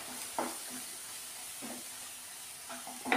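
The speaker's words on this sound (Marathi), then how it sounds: "त्याला पण व्यवस्थित परतून घेऊया." Spiced potato masala sautéing in a pan, a steady soft sizzle under faint hiss, broken by a few brief scraping stirs of a spoon against the pan.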